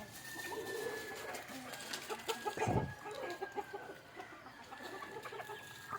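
Country chickens at morning feeding time cluck and call steadily around a yard, one nearer burst standing out, with a long crow-like tone and faint pigeon-like cooing mixed in, no talk.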